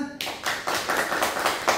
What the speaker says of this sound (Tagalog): O, palakpak muna.